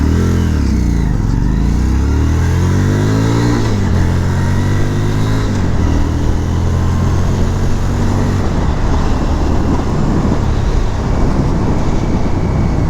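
A 2018 Harley-Davidson Street 500, a 500cc learner bike, revs and shifts up through gears as it rides off, each pull rising in pitch, then settles into a steady loud engine drone.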